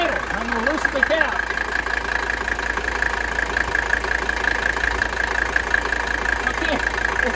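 A diesel engine idles close by with a steady, even knocking rumble and constant mechanical clatter throughout, a faint brief whine near the start.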